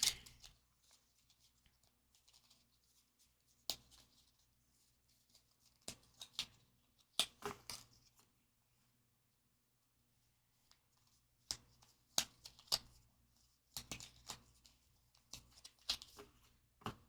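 Quiet, intermittent riffling and snapping of a hard-to-shuffle deck of oracle cards being shuffled in short bursts, with pauses of near silence between them.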